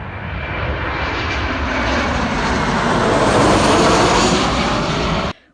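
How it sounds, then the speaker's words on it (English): A Boeing 747 air tanker flies low over a bushfire near Cessnock, dropping pink fire retardant: a loud, sustained roar of jet engines holding steady for several seconds, swelling slightly, then cutting off abruptly. "a spectacular 747 plane that bombed us with pink fire retardant"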